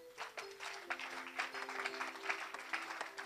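A church retreat congregation applauds in praise, a faint, steady patter of clapping with cheering voices layered over it for a few seconds.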